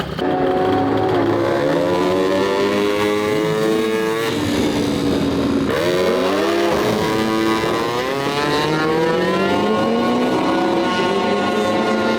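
A £2000 AliExpress race moped is pushed at full throttle on a timed run, its small engine screaming loud and close with rising and falling revs through gear changes.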